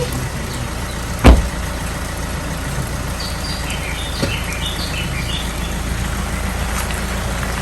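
A car pulls away from a family home on a road trip, its engine a steady, fairly close drone after a single sharp thump, with birds chirping faintly in the background.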